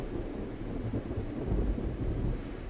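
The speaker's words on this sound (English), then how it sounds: "Oh, it's raining." Steady rain with low rolling thunder rumbling underneath in a video game, a dense continuous wash that swells briefly partway through, with no voices.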